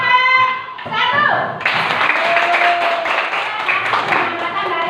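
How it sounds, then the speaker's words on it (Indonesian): Schoolchildren in a classroom clap for a group after a lesson on candlelight, a burst of quick, close handclaps that starts after a teacher's voice and continues briskly to the end, with children's voices mixed in. "tepuk tangan untuk kelompok 1"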